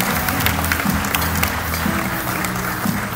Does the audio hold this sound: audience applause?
yes